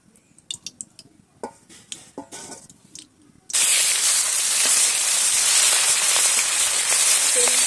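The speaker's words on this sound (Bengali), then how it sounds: "কড়া গরম হয়ে গেছে তেলটা দিয়ে দেবো সরিষার তেল মাছের মোড়াটা ভাজার জন্য" Mustard oil hits a hot wok before hilsa fish head is fried, bursting into a loud, continuous sizzling hiss after a few faint clinks of utensils.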